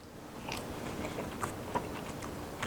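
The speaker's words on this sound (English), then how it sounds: "As you can see, I've been munching." Crunchy chewing of a crispy homemade waffle, close to the mic, with a few sharp bites and crackles standing out over a steady low background hiss.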